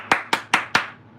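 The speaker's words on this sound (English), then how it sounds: "Can I clap?" Four crisp hand claps in an even rhythm, close and fairly quiet, followed by a brief silence.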